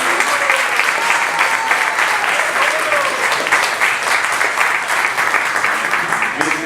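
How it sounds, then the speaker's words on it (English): Sustained applause from an audience at a temple opening lecture, dense and steady throughout, loud and close, with a hum of crowd noise underneath. "round of applause for all of you?"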